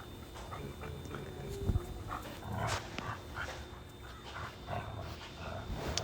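A dog named Winston tugs on a rope during a play session, giving off steady snuffles, short growls and muffled yips at close range, with a quiet voice now and then.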